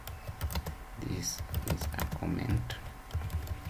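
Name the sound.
typing a code comment on a computer keyboard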